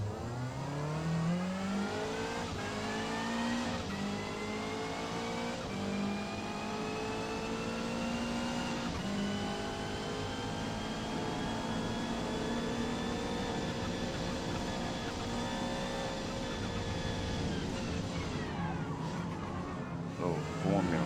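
Subaru Levorg GT racing in Forza Motorsport at Catalunya, its engine droning steadily and loud as pitch rises through long gear pulls, with other race car engines layered in throughout.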